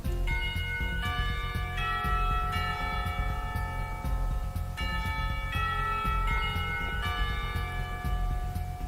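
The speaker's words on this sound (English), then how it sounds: "the bell rings and she quickly gets up and picks up her bag" School bell in the visual novel Katawa Shoujo ringing loudly in repeated clanging bell chimes that overlap and sustain throughout, with no talk over it.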